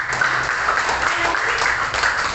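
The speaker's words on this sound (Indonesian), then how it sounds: "Tepuk tangan dulu untuk kita semua." A class of students applauding together in a classroom, a steady dense patter of clapping that holds evenly for a couple of seconds.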